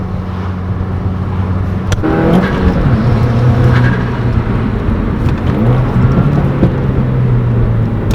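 An Audi S5 under way, its engine droning steadily at close range with a rise in revs and sharp exhaust pops and crackles scattered over the road and cabin rumble.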